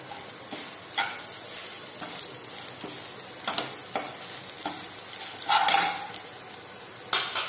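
Grated coconut dry-roasting in a pan for sambar, a steady close sizzle with scraping stirs and occasional clinks of the spatula against the metal, no voices.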